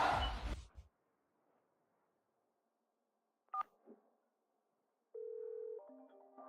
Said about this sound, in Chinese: 王进财，你他妈还敢给我打电话？